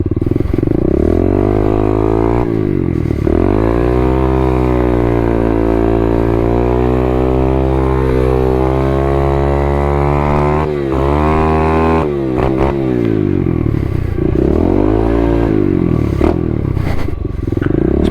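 A pit bike motorcycle revs and drones loudly and close for the whole stretch, its engine pitch rising and falling as it accelerates and eases off over hills and sand.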